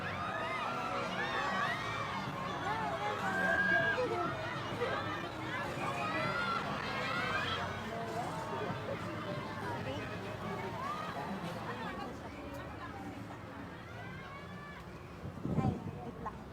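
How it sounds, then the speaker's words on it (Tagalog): A crowd of fans screams and cheers outside Eton Centris, waiting for a performance near the Wish 107.5 bus. The steady babble of shouting voices carries on throughout, with nearby talking mixed in. "Grabe ang sigawan ng mga 18s dito sa labas."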